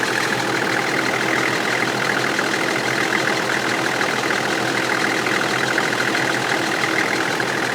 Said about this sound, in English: I'm going to run the motor for a bit, and it should suck the rest through the system.